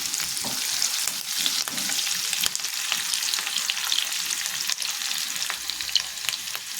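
Finely chopped ginger and green chillies sizzle and spit in hot oil, a steady crackling fry with scattered pops and occasional stirring scrapes, close and fairly loud.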